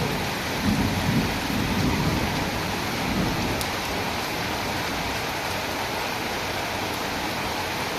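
Heavy rain pours down in a dense, steady roar during a violent pre-monsoon storm with strong winds, loud and continuous throughout with no voices.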